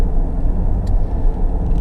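A 2014 Honda CR-V 2.0 i-VTEC SE automatic with four-wheel drive cruises on a country road, giving a steady low rumble of engine and road noise heard from inside the car.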